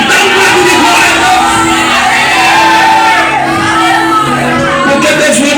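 Church congregation shouting glory during a sermon: a loud burst of many voices crying out and cheering together, sustained and near, filling the room.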